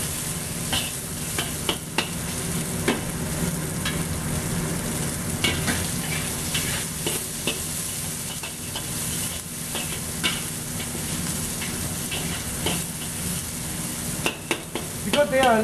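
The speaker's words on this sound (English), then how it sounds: "You kind of mix, try to separate them. Don't stick together," Noodles stir-frying in a pan for pork chow mein, a steady close sizzle with repeated scraping and tossing clatters from stirring throughout.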